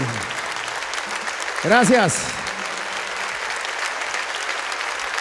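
Audience applause at a jazz concert in Havana's Jazz Plaza festival: a moderate burst of clapping and crowd noise swells for a few seconds beneath a voice on the microphone, then settles back into steady room ambience.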